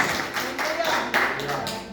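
A standing church congregation clapping hard, loud bursts of hands in uneven waves with some voices mixed in.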